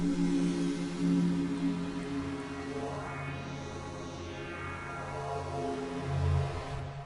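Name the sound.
synth pad in Massive with double notch filter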